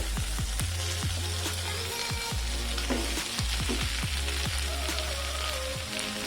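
Minced tuna dropped into ginger-garlic paste frying in oil, a dense steady sizzle with crackling pops throughout, close and loud with no talking.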